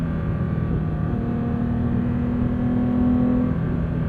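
A 2025 Porsche 911 GT3 flat-six engine revs hard toward 9,000 RPM. The sound is a loud, sustained, rising mechanical howl over a deep rumble, swelling toward the end.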